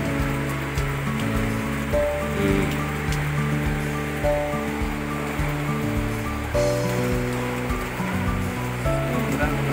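Heavy rain from Typhoon Carina and the southwest monsoon pours steadily, a thick roaring wash with occasional drips and patters on a surface close by.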